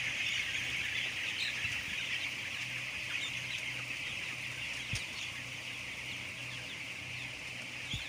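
Thirteen-day-old broiler chickens in a closed house holding a flock of 52,000, a dense, steady chorus of clucking and peeping over a low fan-like hum, with no talk.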